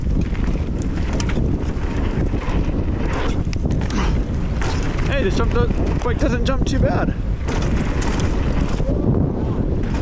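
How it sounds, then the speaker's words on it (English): Strong wind buffets the microphone in a constant low roar at a mountain bike park, with someone talking over it. "It's super windy."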